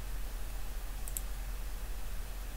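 A computer mouse clicked on an Excel worksheet cell gives a quick double click, faint and brief, over a steady low hum of room noise, with no talking.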